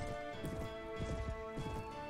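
Hooves drum in a quick, rhythmic beat as a horse gallops uphill in the medieval combat game Mount & Blade: Warband. The hoofbeats are moderately close, with the game's background sound running underneath.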